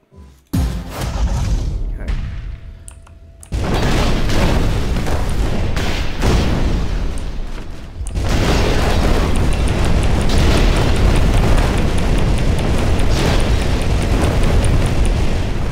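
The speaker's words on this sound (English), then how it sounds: "Lobbing cannons. Shots fired." Cannon shots and explosions in the video game Instruments of Destruction: a sharp blast opens, then long, loud, sustained rumbling booms continue one after another.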